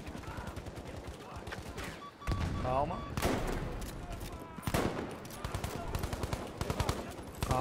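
Gunfire in the video game Battlefield V, with rapid automatic bursts and single shots in quick succession, loud and close, and someone speaking briefly over the shooting.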